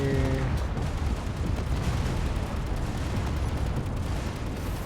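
Heavy ship gun turrets blasting in the Space Engineers game with the UNSC ship weaponry mod, a dense, continuous roar of rapid booming shots sustained loud and near throughout.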